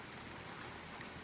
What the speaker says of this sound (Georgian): აი თუ ისმის მეგობრებო ეხა ხმა ამ წვიმის